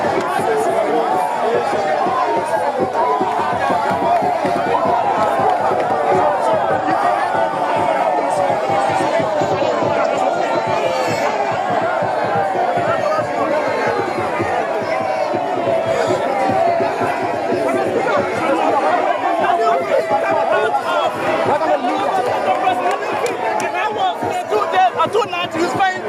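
A large, unruly crowd presses in around an arriving figure, chattering and shouting in a dense, continuous roar that holds steady and loud throughout, with voices overlapping and no pauses.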